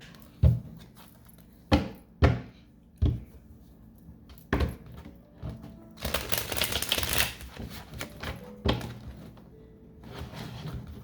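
A deck of tarot cards is handled and shuffled close by, with a series of sharp slaps and riffles spaced a second or two apart and a longer burst of rapid riffling in the middle, all fairly quiet with no talk.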